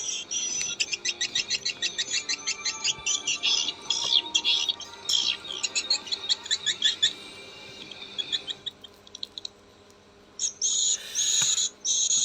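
Rapid, repeated high-pitched chirping swiftlet calls played back from a recording in bursts, fairly clear against a quiet hum, with brief gaps between phrases.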